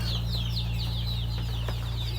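Chickens in a shed after flooding water has receded, repeated high clucks and calls over a constant low mechanical hum.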